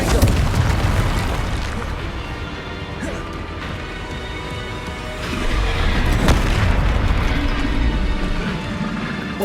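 Repeated Confringo fire spell blasts booming and crashing in the Hogwarts Legacy video game, loud dense combat explosions throughout with a sharper burst near the middle and a swelling roar toward the end.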